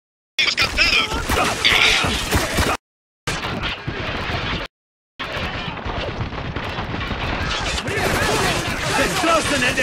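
Heavy gunfire and explosions from a .50 caliber machine gun battle in Spec Ops: The Line, with dense continuous bursts broken by two brief silences, loud and close throughout.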